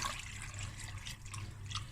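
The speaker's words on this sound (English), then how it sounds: "and just pour all the sauce over" Sauce is poured over roasting cauliflower, butternut and mixed green vegetables, making a soft, steady liquid trickle close by, with no talking.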